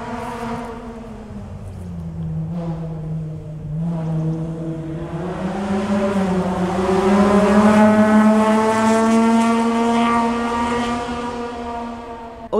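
Race car powering up a hill climb course, its engine note rising steadily through the gears as it approaches, growing louder and nearer, heard alone with no talk.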